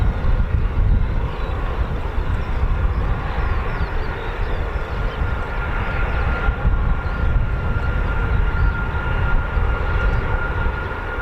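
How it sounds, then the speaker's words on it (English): Boeing KC-135 Stratotanker at RAF Mildenhall, its jet engines producing a loud sustained roar with a broad rumbling wash and a faint high whine, steady throughout. "this is a KC-135"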